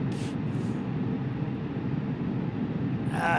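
An airliner's APU running on the FBW A32NX in Microsoft Flight Simulator, a steady, continuous low rumble with a faint high whine, holding level throughout.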